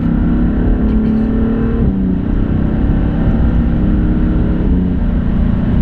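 A car on a Touristenfahrten lap of the Nürburgring Nordschleife gives a loud, continuous in-car engine drone with slow pitch shifts as it brakes and eases off, steady throughout.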